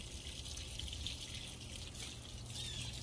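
Water runs steadily from a hose or tap to water garden plants, a faint, even hiss and trickle with no break and no voices.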